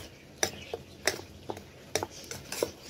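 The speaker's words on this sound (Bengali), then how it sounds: "তেলটা মিক্স করলেই হয়ে যাবে।" A spoon clinks and scrapes against a bowl while stirring coriander-leaf chutney topped with raw oil, giving several sharp taps spaced irregularly over a soft rubbing, close and fairly quiet.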